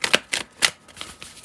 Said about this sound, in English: If you don't like the shuffling, please feel free to fast forward.